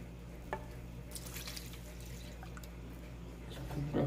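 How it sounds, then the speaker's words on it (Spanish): Cold milk is poured all at once into a roux for béchamel, making soft liquid splashes and pouring gurgles in brief bursts, with a louder splash at the very end. "Ahora vamos a incorporar de golpe nuestra leche fría."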